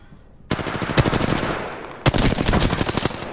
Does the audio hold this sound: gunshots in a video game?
yes